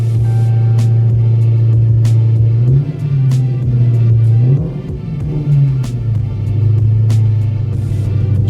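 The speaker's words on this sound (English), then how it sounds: "we're going to fire the car back up and see if we still get a check engine light" Dodge Hellcat V8 with an unlocked PCM, restarted and settling into a loud, steady deep idle with a few brief rises in revs, heard close up with no talking.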